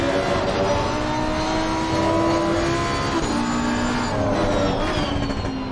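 A GT race car in Assetto Corsa Competizione at Valencia revs hard, its engine note climbing steadily through the gears, loud and continuous with no talk over it.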